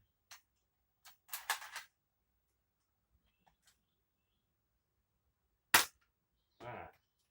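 An M16-A1D pump-action BB gun fires in short, sharp cracks, a few separate shots and pumping clicks spaced out across near-silence, one louder report toward the end.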